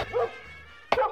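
A dog lets out two short barks or yips, separated by a pause of under a second, fairly close and moderate in volume with a low background rumble.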